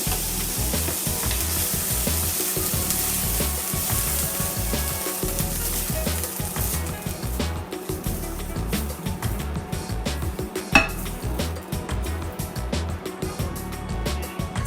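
Vegetables sizzle steadily in a hot pan for about two minutes of cooking, a continuous close frying hiss with occasional stirring clatter and no talk.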